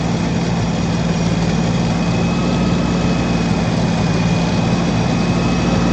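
A Yanmar F155 tractor engine idles steadily in a snowy old rice field, a constant loud diesel drone with an even low hum and no variation or voices.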